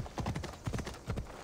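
Horse hooves clip-clop in the video game Assassin's Creed Odyssey, a quick run of close, crisp hoofbeats in uneven clusters, with no talk over them.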